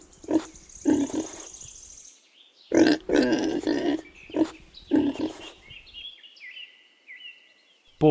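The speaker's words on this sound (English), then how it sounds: "Pig." A pig grunts in several short, low bursts with pauses between them, loud and close, followed by a quieter high-pitched trailing sound near the end.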